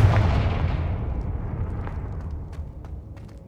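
A Bombarda or Confringo explosive spell from Hogwarts Legacy goes off as a single loud, deep blast, its rumble fading away over a few seconds.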